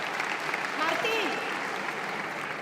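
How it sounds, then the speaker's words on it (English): An audience at a mobility awards ceremony applauds steadily with dense, even clapping that holds at a moderate level throughout, while a faint voice rises briefly in the middle. "A warm round of applause, please."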